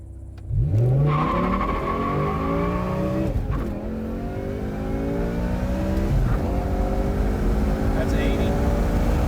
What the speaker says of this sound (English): I'm about to go take a ride in a nice M6.